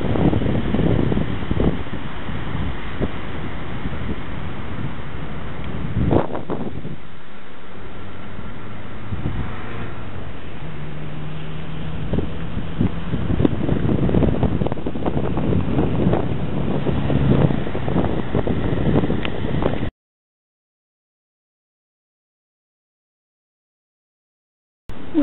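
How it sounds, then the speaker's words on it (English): Strong wind buffets the microphone at a beach near Bonneville Headland on the New South Wales north coast, a constant roar with heavy gusts and faint surf behind it, then the sound cuts out abruptly near the end. "and it's very windy."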